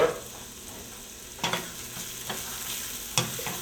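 Ginger sautéing in a pan with a pinch of salt and black pepper, a quiet steady background sizzle broken by several sharp stirring scrapes of the utensil against the pan.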